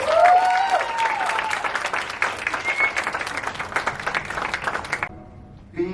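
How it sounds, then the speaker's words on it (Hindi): A large audience at a dance event for people with Parkinson's applauds steadily and densely for the performers for about five seconds before the clapping cuts off abruptly. "सबके लिए जोरदार तालियां बजाइए एक बार"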